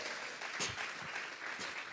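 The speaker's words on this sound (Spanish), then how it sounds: "Vamos a regalarle ofrenda de palmas al Dios de la gloria." A church congregation claps together as an offering of praise to God, steady dense applause heard at a moderate distance with a few louder claps standing out over it.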